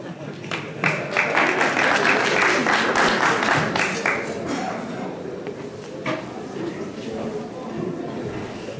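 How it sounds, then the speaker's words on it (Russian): Audience applause in a concert hall at an anniversary celebration, a dense wash of clapping that swells early and then slowly thins, with a voice talking over it. "Еще раз ваш аплодисмент"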